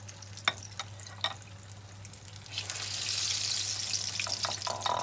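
Battered potato fritters dropped into hot oil at a Moroccan street food stall, starting with a few soft splashes and clicks and then settling into a steady, close sizzle with no talk.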